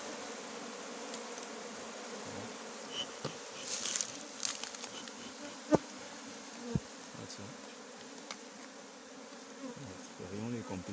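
Bees buzz around an opened beehive with an old comb, a faint, steady drone with occasional louder passes close by and a few small clicks and knocks.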